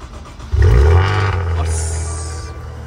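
A used car's engine fires up at close range with a sudden low roar that then settles into a steady idle rumble, with a brief high whine near the end.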